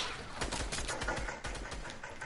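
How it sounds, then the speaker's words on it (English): Rapid bursts of gunfire in an online multiplayer shooter game, a dense crackling volley of repeated shots with no voices over it. "Why are they shooting me?"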